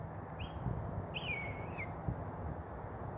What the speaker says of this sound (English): And it looks like it's a hawk of some sort.